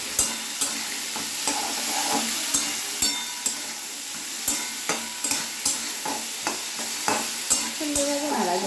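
Spiced chickpeas being stirred in a frying pan, with a spoon scraping in regular strokes about every half second over a steady sizzle, close and alone.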